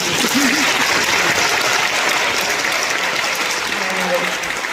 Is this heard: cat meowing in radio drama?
no